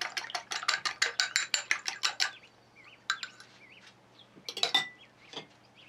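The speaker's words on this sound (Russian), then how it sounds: "Яйцо взбиваем вилочкой." An egg being beaten with a fork for a savory cottage cheese loaf: a quick run of light, rhythmic metallic clinks against a bowl, then a pause and a few more scattered taps, close and clear with no talking.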